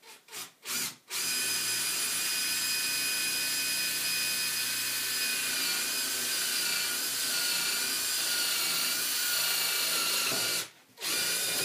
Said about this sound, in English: I'm going to use a little smaller one first to make a pilot hole